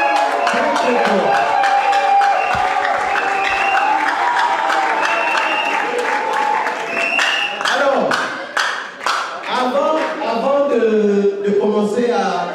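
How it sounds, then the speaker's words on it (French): A crowd claps and cheers at a birthday celebration for a mother, with sustained applause running under loud voices throughout. "On va applaudir très fort"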